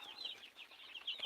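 Young two-week-old farm chickens, with soft high clucks and chirps and some wing flapping, close by and fairly quiet, with no talk.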